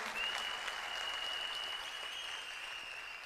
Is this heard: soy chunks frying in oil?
no